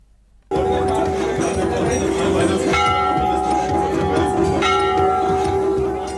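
Bells ring continuously at the Chitai Golu Devta temple complex in Almora, hung in their thousands, giving a loud, sustained metallic clang with overlapping tones after a sudden start, while a voice talks over the ringing.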